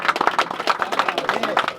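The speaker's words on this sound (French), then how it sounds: "Allez, un peu d'applaudissements pour le premier." Applause for the winner of a fishing contest prize-giving outdoors, quick rhythmic clapping from a small crowd with voices mixed in.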